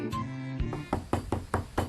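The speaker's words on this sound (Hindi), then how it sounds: "उसका दरवाजा बजाती है" Knocking on a door in an animated children's story: a brief series of about five sharp, evenly spaced knocks, close and distinct, following a short musical tone.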